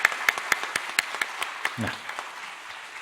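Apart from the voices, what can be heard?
church congregation applause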